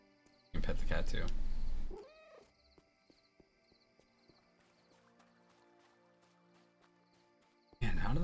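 A cat meows when petted in a retro video game played on a Steam Deck, one short wavering meow after a loud burst of game noise, followed by soft game music and clicks.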